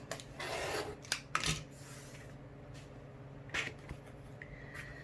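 Rasping cuts trim quilt fabric along a marked line, a few short strokes close by in a quiet room, separated by brief pauses.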